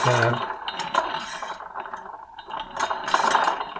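A stand mixer's top attachment and whisk spin together in a kitchen, giving a steady mechanical whirring and gear clicking that carries on throughout at moderate loudness.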